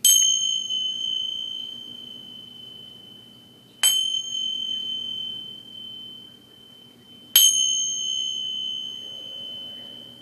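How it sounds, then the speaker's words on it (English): Spiritual clearing chimes are struck three times at spaced intervals, each a bright metallic ding. Each strike leaves a long pure ringing tone that slowly fades, close and clear against quiet surroundings. "I'm going to take these chimes and we're just going to clear a little bit of air"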